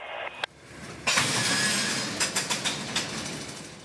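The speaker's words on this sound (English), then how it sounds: "our city receives bulk trains like these ethanol and grain trains pictured" Freight train in central Florida passing close by, a steady rumble with a rhythmic series of clickety-clack wheel beats and a few sharp bangs near the start.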